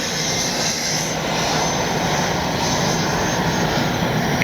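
A Freewing F9F Cougar RC jet flies a circuit before landing, its electric ducted-fan whine holding a steady, fairly loud, unbroken tone with a faint rising and falling of pitch as it passes.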